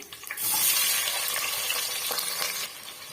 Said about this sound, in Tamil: இந்த ஸ்டேஜில் நம்ம எடுத்து வச்சிருக்க வெங்காயம் சேர்த்துக்கலாம்